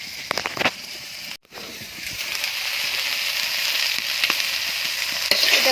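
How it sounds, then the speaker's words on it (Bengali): Crab sizzles in hot oil in a pan, a few clatters at first, then a short gap and a steady, close frying hiss that grows slightly louder. "দেখো কাঁকড়াটা কিন্তু ভাজা হয়ে এসেছে"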